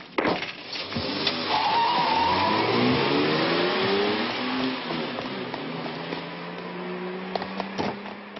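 A stolen car's engine revs hard and pulls away, a loud rising roar that sweeps up in pitch through the gears, then fades as the car drives off, with scattered small clatters near the end.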